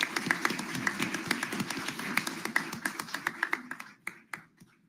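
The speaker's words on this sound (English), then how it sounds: "I'm going to allow everybody to give these candidates a round of applause on their opening statements." An audience at a candidate forum in Weslaco applauds the candidates' opening statements, a crowd's dense clapping that thins into scattered individual claps and fades out near the end.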